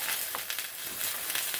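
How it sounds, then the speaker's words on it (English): Potatoes cut for chips fry in a crowded pan of hot oil, giving a steady, close crackling sizzle with small popping bursts throughout and no talking. "my potatoes have been added to my pan here."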